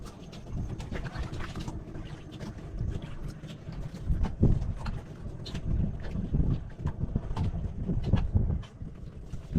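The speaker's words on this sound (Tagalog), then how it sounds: "Hangin pa rin talaga dito." Steady wind rushes and buffets throughout, a loud low rumble that swells and eases in gusts, with no voices.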